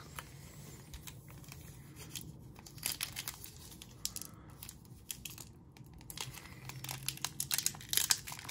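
A foil pack of 2022 Onyx Vintage baseball cards torn open, with quiet close crinkling and tearing in small uneven bursts, soft overall and free of talk.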